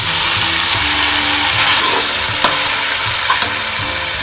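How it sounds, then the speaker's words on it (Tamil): Chicken frying with tomatoes in a pan for a village-style chicken curry makes a loud, steady sizzle and hiss throughout, broken by occasional stirring scrapes and clinks close by. "வரும்போது சிக்கன் போடணும். சிக்கன் போடுறீங்க."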